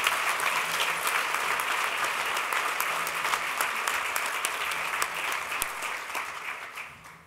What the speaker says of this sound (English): let's give them one final applause